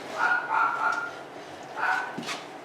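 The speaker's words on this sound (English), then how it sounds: "Sorry about that little doggy." A small dog yips and barks in short bursts, a few quick high-pitched calls, then a pause and another couple of yaps, fairly close.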